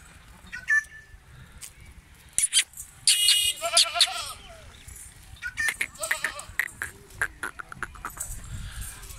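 Goats bleat repeatedly on a goat farm in Dera Ghazi Khan, several calls close by and others farther off, with a loud cluster of bleats in the middle and rustling and movement between them.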